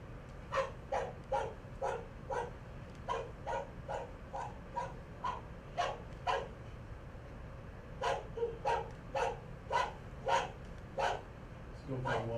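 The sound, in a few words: dog barks played as recording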